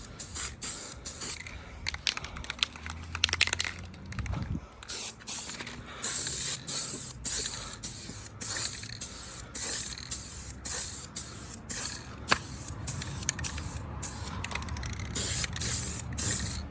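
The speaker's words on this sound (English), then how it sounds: "This can does not spray as good as the other one was" Aerosol spray paint can hissing onto a 5.4-swapped Mustang GT as primer-like coat, in long steady bursts with brief pauses and clicks of the nozzle, close and fairly loud throughout.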